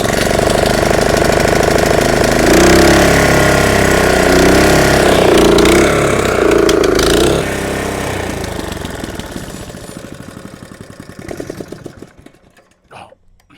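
An old Honda GX160 small petrol engine runs loud and steady with a rough, throbbing drone, then sputters, fades and dies out into quiet.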